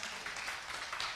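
A church congregation claps during a Sunday sermon, a soft, brief patter of hands heard faintly from a distance.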